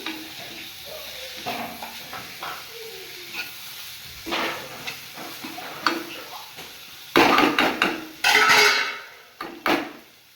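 Chopped tomatoes frying in a pan for Kanyakumari-style mutton kulambu, a constant sizzle broken by clattering spoon strokes against the pan that grow louder and more frequent toward the end.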